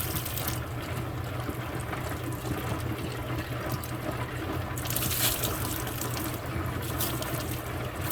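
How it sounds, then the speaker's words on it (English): Water runs continuously as soap is rinsed out of a rock tumbler barrel, a steady close rushing flow with a brief louder splash near the end and no voice. "And now I'm going to be rinsing all of the soap out of my barrel."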